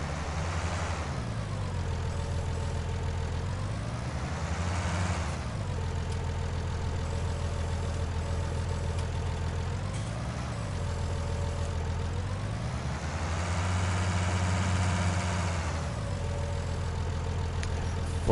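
A tractor engine idles steadily in Farming Simulator 19, a constant low rumble that rises and falls in pitch a few times as the revs briefly swell, with no talking.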